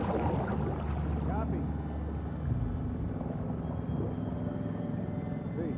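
Boat engine from The Last of Us Part II, a steady low motor rumble droning continuously throughout alongside water and ambient game noise, with voices faintly underneath.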